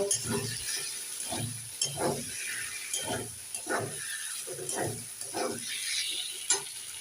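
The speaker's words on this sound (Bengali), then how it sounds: "এরপরে দিয়ে দেব ভেজে রাখা আলু একটু নেড়ে ছেড়ে দিয়ে দেব" Fried potatoes being stirred into sizzling masala in a pan for a tilapia fish curry, giving a steady frying hiss broken by repeated scraping strokes of the spoon, close and moderately loud with no talking.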